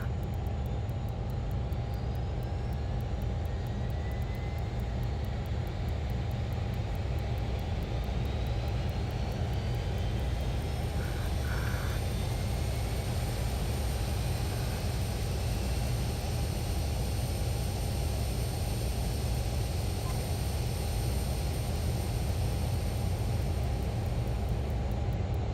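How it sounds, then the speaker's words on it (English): A Learjet 35A engine in Microsoft Flight Simulator spools up, a steady loud whine and roar that holds constant throughout with no speech over it. "Let's start engine number 1 as well."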